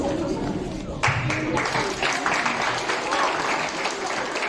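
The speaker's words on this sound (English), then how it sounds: "now it's time to welcome the 87 graders with a round of applause" A school audience at a seventh and eighth grade public speaking competition gives a round of applause, a dense, continuous roar of many hands clapping that stays even throughout.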